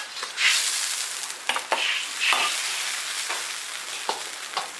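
Fish head going into a hot iron wok meets a bright, crackling sizzle with stirring scrapes and a few sharp clinks, steady and close throughout.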